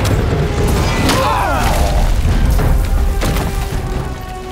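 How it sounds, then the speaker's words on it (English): Rocket launcher fire indoors in the Marvel's Spider-Man video game, a loud booming blast with a sharp crashing impact over a dense, continuous rumble of game action that eases slightly toward the end. "Why the rocket launcher?"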